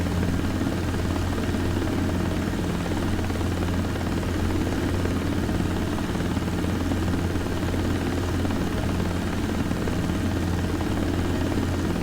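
A helicopter in a desktop flight simulator game drones with a steady, loud rotor and engine hum that stays constant throughout, with no talking.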